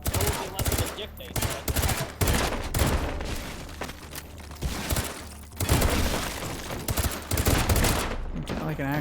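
Rapid AK rifle gunfire in a VR shooting game, loud and dense bursts of shots running almost without pause, with some mechanical clatter mixed in.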